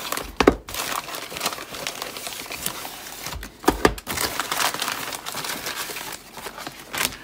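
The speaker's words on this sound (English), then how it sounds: "I'm going to cut into this" Blade slicing open a cardboard Amazon package, with close, rough scraping and crinkling of packing material, interrupted by a few sharp cracks and tears.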